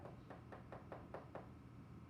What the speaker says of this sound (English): Knock at the door.